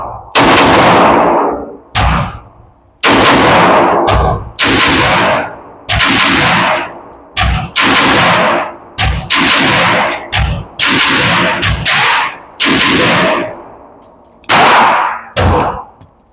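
Girsan pistol firing at a shooting range, a dozen or so sharp, very loud close shots with ringing tails, some fired in quick pairs, separated by brief pauses.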